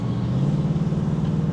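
A 2024 Ford Mustang 5.0 GT convertible cruising through Los Angeles, its engine giving a steady low, throbbing rumble heard from inside the car with no speech.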